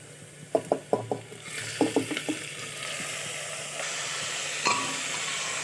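Onion, chilli and garlic fry in a pan with a constant soft sizzle, broken by two quick bursts of rattling clicks from stirring and a later single knock, no voices.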